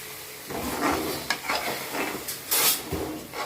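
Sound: sautéing ground cashew, onion, tomato and poppy seed paste for mutton pepper gravy

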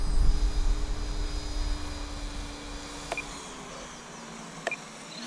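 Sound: T-Rex 500 radio-controlled helicopter flying

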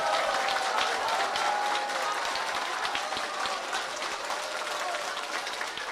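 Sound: audience applause at a lecture

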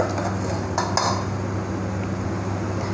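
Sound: continuously stirring rice kheer in a pot

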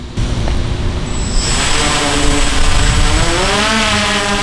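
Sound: drone propellers whirring

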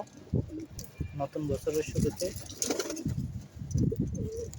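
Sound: pigeons cooing while being fed

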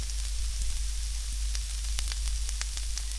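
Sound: minced lemongrass and garlic frying in a pan

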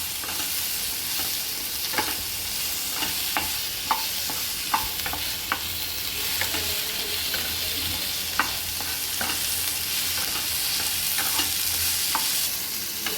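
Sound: garlic sautéing in pan

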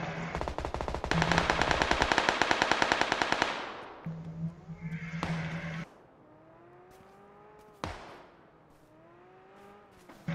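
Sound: gunfire in the video game PUBG

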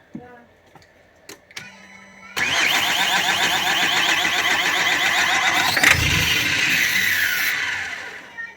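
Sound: Opel Vivaro 2.0 diesel engine cranking on the starter

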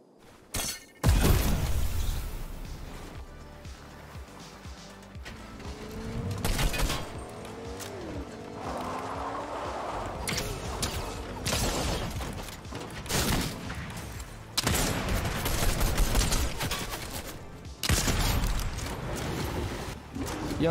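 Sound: sniper rifle headshot gunfire in Fortnite video game

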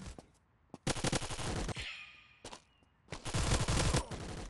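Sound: gunfire in a mobile shooter video game

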